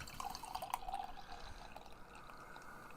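Cherry Pie Tart beer from Junkyard Brewing Company poured into a tulip glass, a steady liquid trickle with light splashy drips, strongest early then settling into a soft continuous fill, with no talking.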